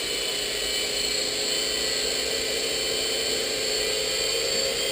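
Small RC model helicopter whining steadily as its rotor spins up under added throttle, a continuous high-pitched buzzing drone held close and fairly loud with no speech over it.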